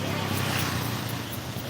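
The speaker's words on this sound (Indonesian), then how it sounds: "mesin pompanya" A water pump engine runs steadily during a flood, a constant droning motor hum with a rushing, noisy texture, close and fairly loud throughout the short stretch.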